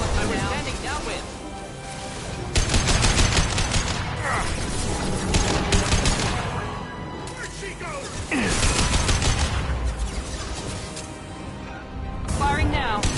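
Bursts of gunfire in the Mass Effect 2 video game, with rapid shots and mechanical clatter rolling loudly over a dense battle mix, while a voice talks over the action.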